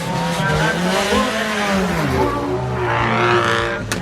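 At a rally flag-off, a car revs hard and pulls away, its engine note climbing through the gears with some tire squeal. The sound is loud and close at first, then fades as the car moves off.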